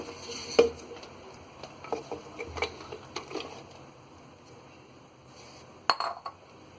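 Cut raw mango pieces drop into a jar, a scatter of light clinks and soft thuds in uneven bursts, with a quiet stretch before a final cluster of knocks.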